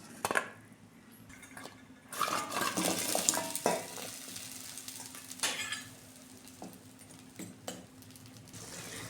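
Rasabora fritters simmering in sugar syrup in a pot, with soft bubbling and a few metal clinks and stirring scrapes, moderately close and alone without talk.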